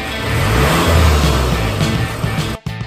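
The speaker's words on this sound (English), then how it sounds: "rev their powerful engines for everyone to hear" A loud truck engine revs and roars steadily, rising and holding, then cuts off abruptly near the end.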